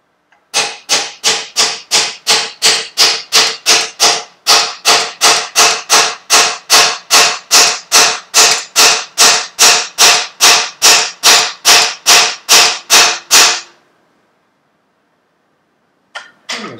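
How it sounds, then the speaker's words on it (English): Hammer tapping on a Firebird car part, about thirty sharp, evenly spaced metallic strikes in quick rhythm, close and loud, followed by silence. "Slightly better hammer."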